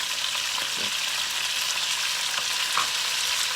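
Carrots, onions and celery sizzle in a hot pan for chicken soup: a dense, continuous hiss of frying with a few soft stirring scrapes, close up and without talk.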